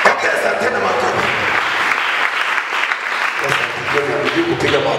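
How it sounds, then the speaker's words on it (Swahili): A church congregation at a university gathering applauds in sustained, dense clapping that runs for several seconds at steady loudness, with a preacher's voice urging them on over it. "Pigie Yesu makofi jamani. Ongeza tena makofi."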